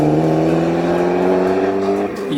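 Alfa Romeo MiTo car engine played back as a sound clip, a loud sustained engine drone with steady harmonic tone that shifts slightly near the end, heard alone.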